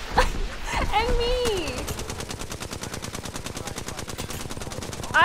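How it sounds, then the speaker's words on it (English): Rapid automatic gunfire from an Apex Legends ranked match: a long, steady stream of evenly spaced shots fills the clip, with people's excited talk and in-game effects layered over the start. "I'm shooting the Valk"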